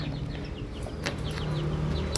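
Several chickens cluck in short, scattered calls over a steady low hum, with occasional soft bird chirps mixed in.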